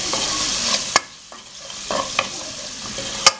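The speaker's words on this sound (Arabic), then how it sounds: "نزيد شوية نقليو شوية هذاك البصل تاعنا" Onion frying in a little oil, a soft sizzle punctuated by several sharp scraping stirs of a utensil against the pan, close and without talk.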